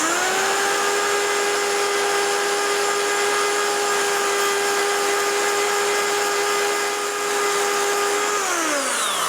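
Steady, loud whine of a belt sander with a coarse belt grinding a deer antler for a thumbstick, holding an even pitch throughout before the motor winds down near the end.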